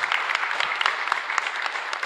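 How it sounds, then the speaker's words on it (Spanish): A church congregation at a live Mass in a chapel claps loudly in honor of Santa Teresa, their patron saint, a brisk, close burst of clapping with no speech. "un fuerte aplauso entonces"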